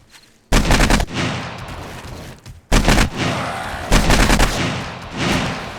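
AK rifle fire in the survival video game 7 Days to Die, three loud bursts of rapid automatic shots separated by short gaps, each trailing into a noisy echo.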